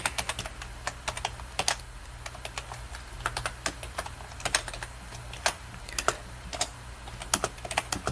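Rapid, uneven clatter of keys on a computer keyboard, close and fairly quiet, with sharp taps in short bursts over a low steady hum and no voices.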